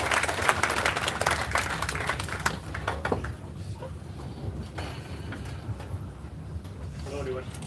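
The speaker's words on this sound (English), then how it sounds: "Let's welcome up with a huge round of applause" An audience at an SRM IST Vadapalani campus event applauds to welcome a speaker, clapping strongly at first, then fading over a few seconds into a quieter hall murmur.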